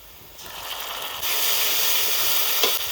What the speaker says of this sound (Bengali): পেঁয়াজ একটু ভেজে নিয়েছি এবার আদা রসুন বাটা দিয়ে দেবো